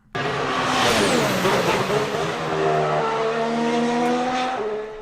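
Racing car engine revving at speed, a loud continuous high-pitched whine with shifting tones and tyre squeal, close and steady for several seconds without talk.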